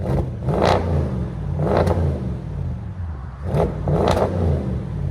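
Audi S7 with a 4.0-litre twin-turbo V8 and deleted muffler revving in sport mode: four sharp throttle blips rise from a loud idle rumble, close up, with no talking.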